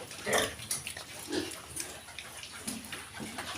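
Piglets 37 days old grunt and squeal in short bursts nearby, rising and falling in irregular bursts against a soft background.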